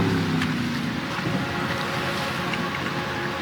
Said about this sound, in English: I'm gonna cut the engine.